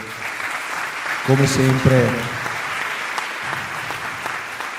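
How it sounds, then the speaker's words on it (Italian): An audience at the closing event of the 58th national choir competition in Vittorio Veneto applauds the jury; steady, moderate clapping with a brief voice cutting through near the start. "a tutti i membri della giuria un grandissimo applauso"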